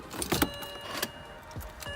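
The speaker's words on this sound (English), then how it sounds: "Put the keys in the ignition." Car keys jangle and click as they go into the ignition of a BMW 335i with the N54 engine, a few close metallic taps and rattles inside a quiet cabin.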